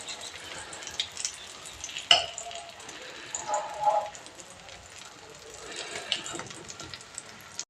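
Eggplant chops frying in oil in a home kitchen pan give off a steady, close crackling sizzle, with a few sharper clatters and a brief low voice in the middle.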